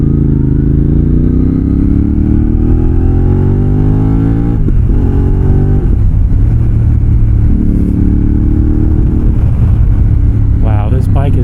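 An X-Cape 1200 adventure motorcycle accelerates while being ridden, a loud, close engine drone climbing in pitch through several gear shifts, with a brief voice near the end.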